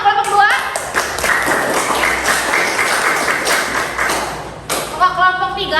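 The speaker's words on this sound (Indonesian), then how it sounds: "Tepuk tangan untuk kelompok 2." Students in a classroom clap for a presenting group, a few seconds of dense applause framed by brief voices at the start and end.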